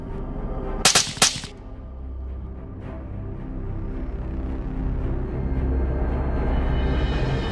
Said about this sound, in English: Gunshots gradually faded away